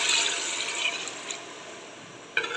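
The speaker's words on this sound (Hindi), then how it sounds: "अब ऐड करती हूँ पानी" Water poured into a pot of fried potatoes, with rice waiting to go in, makes a steady hissing splash that eases off, then a short louder clatter right at the end.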